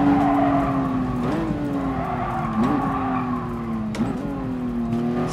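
A Toyota 2000GT brakes hard in Gran Turismo Sport, its steady engine drone dipping with repeated tire squeals and short skids as it slows through turns, loud and close.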